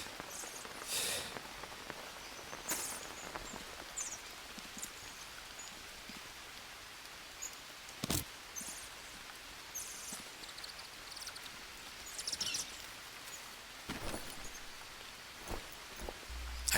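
Steady rain falls in the Green Hell jungle survival game, a continuous soft hiss with scattered louder drops and patter landing nearby, with no voices.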